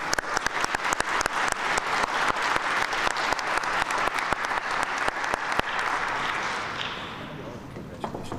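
An audience at the 2022 Kathy Osterman Awards ceremony claps loudly and steadily, a dense burst of applause that gradually fades toward the end.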